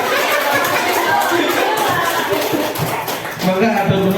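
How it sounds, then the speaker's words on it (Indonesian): Applause rises from an audience at a school training session on positive discipline culture, scattered clapping mixed with crowd murmur and light chatter, moderately loud and fairly close, fading slightly before a brief swell near the end. "Tepuk tangan"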